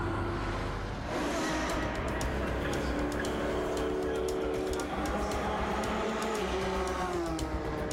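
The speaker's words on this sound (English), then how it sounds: "The pressure of trying to set a fast lap seems to be getting to Miguel as he overdrives car 1, 2, 3" Race car lapping a track, its engine a continuous loud drone that rises and shifts in pitch as it accelerates through the lap, with a commentator talking over it.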